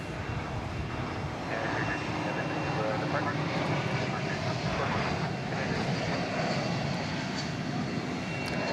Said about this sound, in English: That is an Airbus A321.